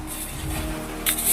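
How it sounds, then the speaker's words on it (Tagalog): Moss-removal solution is sprayed from a hand sprayer onto a mossy surface: a steady hiss runs underneath and ends in a sharper, brighter spray burst near the end, with no talking. "Tapos ilagay mo sa ganito, spray mo, sample spray"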